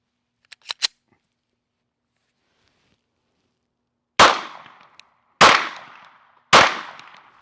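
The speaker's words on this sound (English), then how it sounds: "All right, let's fire a couple more shots." A Glock 17 Gen 6 pistol fires three loud, sharp shots at roughly one-second intervals outdoors on a range, each with a ringing decay, preceded by a few quieter clicks and metallic handling sounds.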